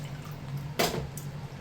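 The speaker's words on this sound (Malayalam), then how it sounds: "ഇതിൽ ആവശ്യത്തിന് വെള്ളം ഒഴിച്ചു കൊടുക്കാം." Water splashes briefly into a tamarind spice paste for a pumpkin curry, one short pour near the middle over a quiet kitchen hum.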